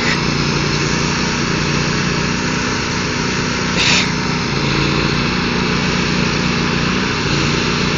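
A tractor engine at a tractor pull drones steadily and fairly loudly, heard from a backyard next to the event, as a constant mechanical hum that holds without a break.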